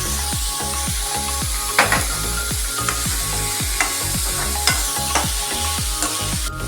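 Onions fry for a baby corn capsicum masala curry, a loud constant sizzle overlaid by a fast, regular rhythm of spatula strokes scraping the pan, with occasional sharper knocks, close and without talk.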